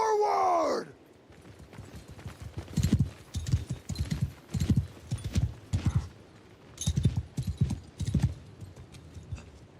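Horses clip-clopping in a galloping rhythm with occasional neighs as mounted horse archers charge forward in a medieval battle video game, steady hoofbeats close and loud after a brief opening whinny.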